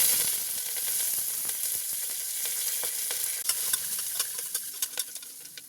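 Curry leaves, sliced onion, two dried red chillies, mustard seeds and cumin frying in hot oil, a bright continuous sizzle with sharp crackles and pops that grow more frequent toward the end, with no voices.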